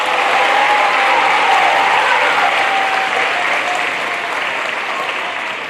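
Loud, sustained applause from a school assembly audience for the jazz band, a dense roar of clapping with some cheering that stays strong and eases slightly toward the end.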